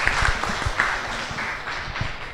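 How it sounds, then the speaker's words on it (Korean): A studio audience at a live public broadcast gives a short round of clapping, moderately loud and fairly close, which gradually thins out over a couple of seconds. "여기까지 나와주셔서 박수 한번 주시죠"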